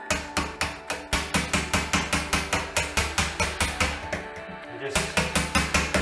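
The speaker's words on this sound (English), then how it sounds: "I'm just going to use the chisel on the silicone here on the wall" A chisel chipping old silicone caulk off a wall, rapid steady metallic taps in an even rhythm, loud and close, with a few brief spoken words.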